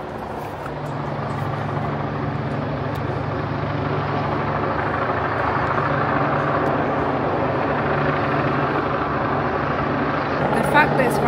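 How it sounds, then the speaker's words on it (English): A helicopter flies low, right overhead, making a loud, steady rotor and engine drone that holds unbroken throughout. "there's like helicopters, but the helicopter's literally right"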